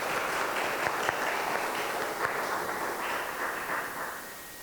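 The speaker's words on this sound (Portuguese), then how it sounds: "Aplausos." Audience applause greets a returning professor at an inaugural university lecture at FEEC, a dense steady wash of many clapping hands that holds strong throughout and then slowly tapers near the end.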